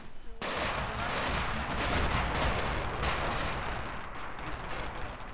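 Sustained gunfire in a combat firefight, dense overlapping bursts that start abruptly and roar continuously for several seconds, loud and close, with no talk over it.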